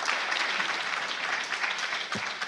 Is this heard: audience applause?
yes